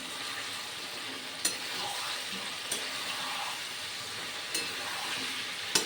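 Potatoes and spices frying for a vegetarian aloo dum, a faint steady sizzle with occasional sharp clinks of a spoon against the pan.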